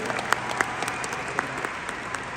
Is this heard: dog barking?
no